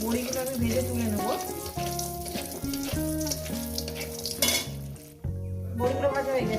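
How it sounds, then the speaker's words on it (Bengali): Bori lentil dumplings sizzle steadily in hot oil in a pan, a continuous close crackle with occasional utensil clinks beneath, while music plays alongside. "বড়িগুলো আমি ভেজে তুলে নেবো"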